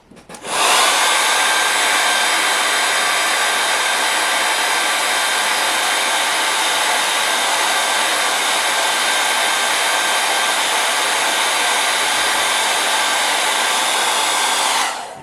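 A hair dryer runs steadily and loud for about fifteen seconds while drying wet watercolor paint on a painting of a sailboat, the airflow a constant whooshing roar with no speech.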